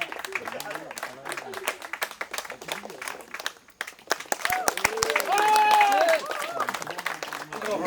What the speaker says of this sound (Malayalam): എല്ലാവരും കൈയടിച്ച്